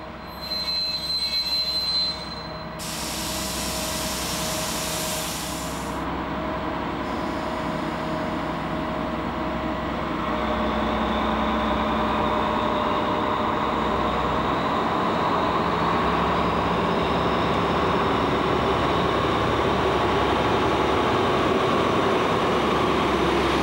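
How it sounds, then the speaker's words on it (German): A class 229 diesel locomotive hauling three BGHW coaches pulls into Paulinzella station, its wheels squealing loudly and continuously over a steady rail rumble that builds as it stops, with no voices. "Mit 3 BGHW-Wagen macht 229/186 im Bahnhof Paulinzella Halt."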